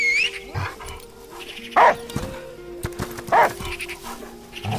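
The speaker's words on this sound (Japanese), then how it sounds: "犬を呼ぶ。" Dog barks in the video game Last Day of June, three short sharp yelps spaced a second or so apart, mid-distance, over a quiet ambient game background.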